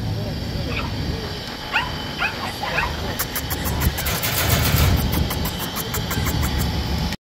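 Dogs bark, yip and whimper at a street pet market in Baghdad's Adhamiya district, mixed with traffic, engine noise and chattering birds, while people talk nearby throughout.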